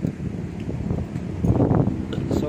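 Steady seaside wind rumbles and buffets the microphone outdoors, a low, gusty roar with no clear pauses.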